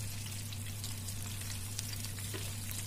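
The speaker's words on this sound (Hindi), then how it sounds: "इसी तरह सारे केले को फ्राई कर लेना है" Banana pieces coated in cornflour fry in hot oil over medium heat, giving a steady, even sizzle with fine crackling and no talking.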